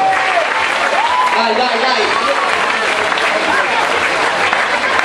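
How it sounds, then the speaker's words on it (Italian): Crowd applause at a town palio in Robbio for the Canton Balin player, steady and loud throughout, with a voice talking over it. "un grosso applauso"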